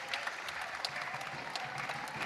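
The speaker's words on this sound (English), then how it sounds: "Dom Telford gets a round of applause from the Tyneham Weir stand" Football supporters in the Tyneham Weir stand at a Gateshead FC National League match give a steady round of applause, dense clapping spread evenly across the stand with no talk over it.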